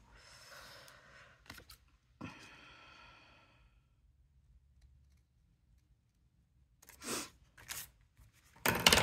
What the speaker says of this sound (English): see if I can do that with my scissors